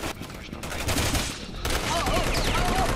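Gunfire in Resident Evil 6, a burst of several shots close and loud, with game noise continuing after.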